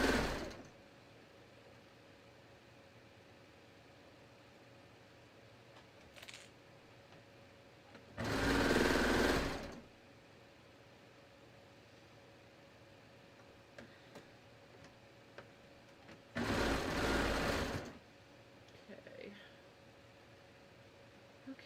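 Sewing machine stitching two fabric layers of a set-in sleeve seam, pin to pin, in two loud bursts of rapid, steady needle chatter lasting about a second each, separated by quiet room tone with faint handling clicks.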